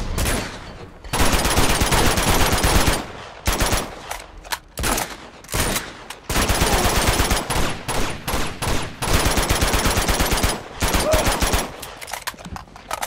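Rapid automatic gunfire from an action-adventure shooter game blasts in long, loud bursts broken by short gaps, with near-continuous fusillades and scattered single shots.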